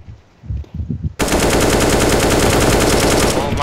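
Sustained automatic AK rifle fire in CS:GO erupts loud and close after a second of low rumbling, hammering continuously in a rapid rhythm to the end.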